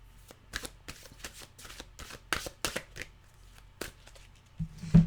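A deck of mantra cards shuffled by hand, a rapid series of crisp riffling snaps and soft slaps, close and clear with no talking.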